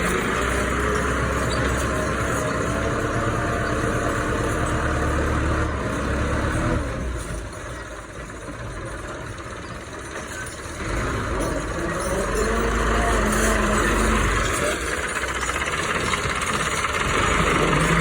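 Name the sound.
tractor engine idling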